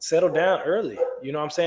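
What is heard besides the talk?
dogs barking in the background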